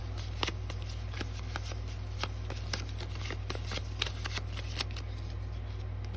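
Close, quiet shuffling of playing cards, a run of soft rapid riffles and taps over a low steady hum.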